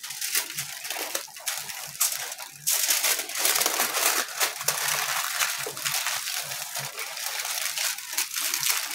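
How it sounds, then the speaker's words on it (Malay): Aluminium foil is crumpled and folded around food before it goes into an air fryer or oven, giving close, irregular crinkling bursts that grow busier and denser partway through. "So kita bungkus dengan aluminium foil dulu macam ni."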